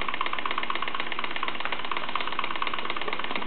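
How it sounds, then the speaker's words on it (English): A Cyldon Vulcan 13/3 model steam engine with a small soldered boiler, light Mazak flywheel and disc crank runs steadily, giving off a continuous, even, rapid mechanical chatter at close range. "It's a diminutive, sort of lightweight engine."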